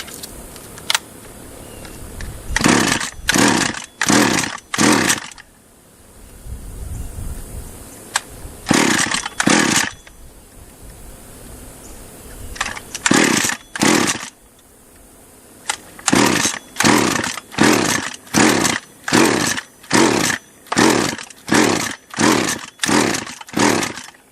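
Small top-handle chainsaw engine held at half throttle, firing in repeated short roaring bursts with brief drops and pauses between them, loud and close, sputtering in a way that suggests a carburetor needing rebuild.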